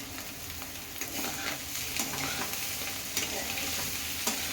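Onion and egg fry being stirred gently in a hot pan, a soft continuous sizzle with light scraping strokes of the spoon, close and fairly quiet, no voices.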